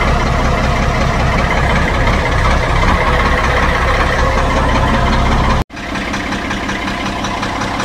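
An engine that has just started runs steadily at idle, loud and close, a constant rumbling drone with one brief dropout near the end before it keeps running.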